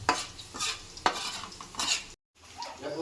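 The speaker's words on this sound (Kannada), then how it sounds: "ಇವಾಗ ನಾನು ಫಸ್ಟು ಎಣ್ಣೆ ಜೊತೆ ಸಾಸಿವೆ, ಜೀರಿಗೆ ಮತ್ತು ಮೆಣಸಿನ್ಕಾಯಿನ ಹುರ್ಕೊತಾ ಇದ್ದೀನಿ" Mustard seeds, cumin and chilies frying in oil, a close, busy sizzle with utensil scrapes and clinks against the pan, briefly cutting out before resuming.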